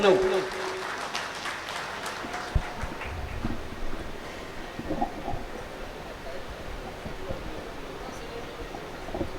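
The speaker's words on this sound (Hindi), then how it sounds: "मैं ये चाहता हूं कि जोरदार तालियों की गूंज में आप लोग भी उन्हें बुलाएं" Audience at an All India Mushaira in Siwan applauds to welcome a poet, a soft, diffuse spread of clapping heard at a distance, fairly faint and blended with crowd murmur and voices.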